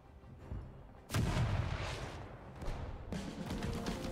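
A tank in the World War II strategy game Total Tank Generals fires at enemy artillery near Stalingrad, two heavy booming shots a couple of seconds apart, each swelling out of a dull rumbling battlefield background, fairly quiet overall.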